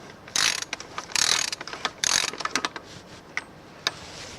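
A ratchet with a 32mm socket loosens a plastic oil filter cap on a car, giving close, crisp clicking bursts in quick runs that thin out into a few isolated ticks.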